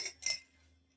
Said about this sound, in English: And into the mixing glass, some ice.